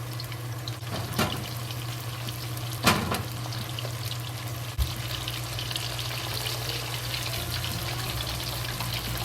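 Pork pieces deep frying in hot oil for sweet-and-sour pineapple pork give a constant bubbling sizzle, broken by a few sharp clatters from stirring.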